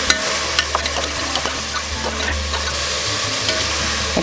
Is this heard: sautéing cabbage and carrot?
yes